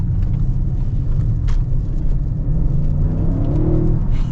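A 2022 Audi RS7 in auto mode gives off a dense, heavy low engine rumble under throttle, steady and loud for a few seconds with a faint rising tone near the end.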